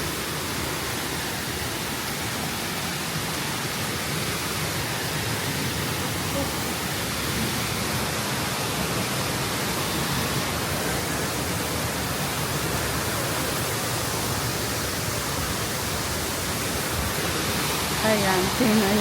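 Botolan waterfall in the Philippines rushes, flowing after rain, as a dense, steady roar of falling water that fills the scene evenly from start to finish, loud and close, with no pauses.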